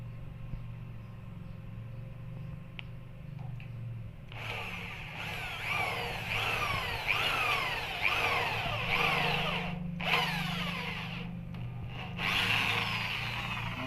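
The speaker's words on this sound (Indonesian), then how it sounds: "yang kita coba bor satu lagi" A power drill whines in repeated bursts after a few seconds of low background hum, drilling into a door lock on a metal trellis door, its pitch rising and falling as it bites, with brief pauses between.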